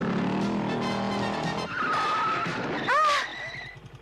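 A car skids hard, its tires letting out a loud, close squeal that bends and wavers in pitch for over a second before cutting off abruptly, following a busy engine-and-road rumble.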